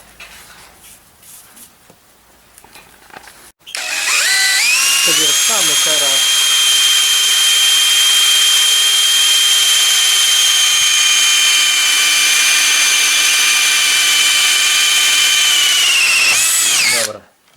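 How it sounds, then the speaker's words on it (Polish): A power drill whines steadily and loudly into wood for over ten seconds after a quiet start, its pitch dipping briefly early on before holding level, then stopping. "Przywiercamy taki patyczek e, brzozowy, na którym właśnie poprzewieszamy te krążki"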